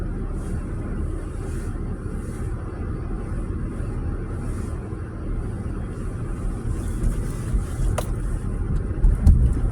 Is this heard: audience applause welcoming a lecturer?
no